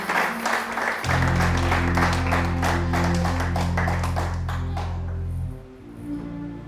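Church congregation applauding and cheering the Lord, dense sustained clapping with a loud steady hum underneath, fading out near the end.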